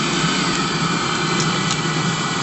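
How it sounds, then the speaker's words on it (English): Steady mechanical whirring and rushing air from a Webasto Thermo Top C/Z diesel heater shutting down and clearing its exhaust, holding an even level throughout with no break. "Now it's shutting down and it's clearing out the exhaust out of the inside."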